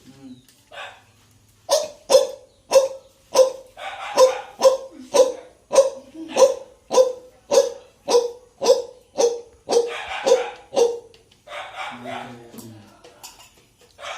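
A voice imitates a Naga Bhutia dog barking, about seventeen evenly spaced loud barks in quick rhythm, close by, followed by some brief murmuring.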